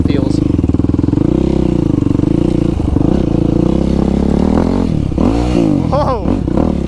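A Suzuki LTR 450 sport quad idles loudly nearby on a winter group ride, then its engine revs up and down in rising and falling sweeps near the end, with voices talking over it.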